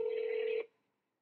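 A telephone tone on a call to Verizon: one steady, loud tone holding for about 0.6 seconds, then cutting off sharply into silence.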